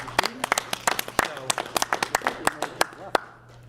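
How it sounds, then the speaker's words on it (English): Scattered, sparse clapping from a small audience at a school board meeting honoring students, distinct individual claps close by, tapering off at the end over a low hum, with brief voices mixed in. "Like a round of applause?"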